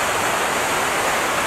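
A tall waterfall pouring strongly with abundant water, a loud, dense, steady roar of rushing water filling the whole clip with no voices.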